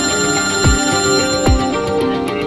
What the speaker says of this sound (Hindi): उनके भाई का फोन आ गया